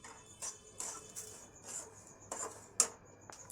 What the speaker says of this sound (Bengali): এবার চালটা দিয়ে দেবো, দিয়ে অনবরত নাড়তে হবে।